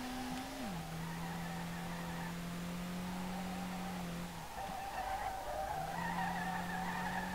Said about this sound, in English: The car drifts so nicely right now.